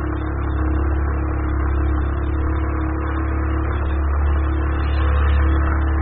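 A motorcycle engine hums steadily under load as it climbs an incline in the Barrio La Loma streets of San Javier and San Cristóbal, holding a constant droning pitch with no talk.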